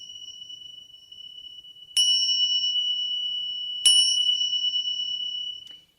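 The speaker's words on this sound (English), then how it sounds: "Those are Tibetan singing bells. They're called tingsha bells." Tibetan tingsha bells are struck twice, each time a bright, high, piercing ring that sustains and slowly fades, heard alone in quiet.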